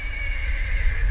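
An old recording of horses gives a steady shrill neigh that holds for about a second, loud over a low rumbling hiss of tape noise.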